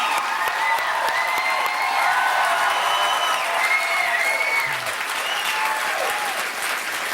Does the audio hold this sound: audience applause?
yes